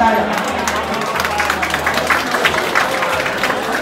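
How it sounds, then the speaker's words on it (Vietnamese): A congregation gathered for a celebration meal after a thanksgiving Mass for a newly ordained Catholic priest breaks into loud, sustained applause, with voices mixed into the clapping. "Xin cộng đoàn cho một tràng pháo tay."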